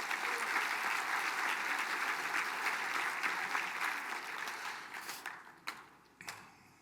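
Audience applause for cabinet members at a State of the Band program, a fairly faint, steady roar of many hands clapping that fades over the last seconds into a few scattered claps.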